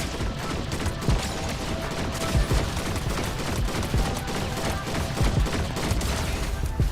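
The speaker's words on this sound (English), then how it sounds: "See the gunfire." Dense, continuous gunfire rattles through a Fortnite match, with rapid overlapping shots and bursts crackling steadily at high volume and no pause.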